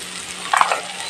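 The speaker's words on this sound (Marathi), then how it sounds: "बाहेर तर कांदा छान भाजून झालेला आहे." Chopped onion fries in a pan for a home-style vegetable dish, a soft, steady sizzle with a brief clatter of stirring near the middle.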